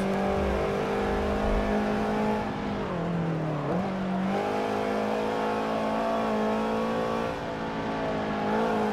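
A Subaru BRZ in Forza Motorsport 7 revs steadily at high engine pitch, with a brief dip and rise as it shifts or lifts off around a corner, then holds a loud, continuous drone without talk.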